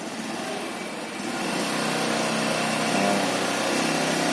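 Motorcycle engine during a riding lesson, a steady buzzing drone that rises in level partway through and holds, close and continuous with no talk.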